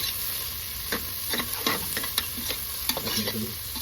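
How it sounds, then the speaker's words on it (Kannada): Onions sizzle in a pan as they fry until brown, with a steady crackle broken by soft stirring scrapes and taps, close and alone. "ಈ ಆನಿಯನ್ ಫುಲ್ಲು ಬ್ರೌನಿಶ್ ಆಗೋವರೆಗೂ ನೀಟಾಗಿ ಫ್ರೈ ಮಾಡ್ಕೋಬೇಕು"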